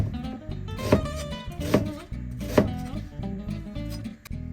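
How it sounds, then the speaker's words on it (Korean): A knife chops half an onion into thick slices on a cutting board, with three or four firm, evenly spaced thuds standing out over lighter cuts, close and clear with no voices. "양파는 반개 정도를 너무 얇지 않게 도톰하게 썰어주세요."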